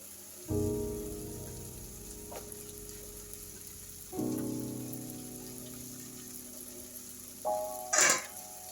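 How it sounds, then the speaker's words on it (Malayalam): Chopped beetroot for a spicy beetroot pickle drops into a hot pan of masala, setting off a soft hiss that flares up three times and then settles into a quiet, steady sizzle. "ഇനി ഇതിലേക്ക് ഞാൻ ഇപ്പോൾ ഈ അരിഞ്ഞു വെച്ചിരിക്കുന്ന ബീട്രൂട്ട് ഇടുവാണ്"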